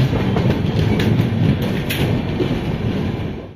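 A nearly empty Mumbai local train runs along the line in the rain, its steady rumble and wheel clatter loud and continuous from inside the carriage.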